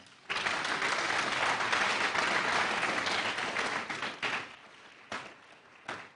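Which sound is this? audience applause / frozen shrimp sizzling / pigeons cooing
audience applause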